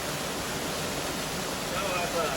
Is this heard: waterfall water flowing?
yes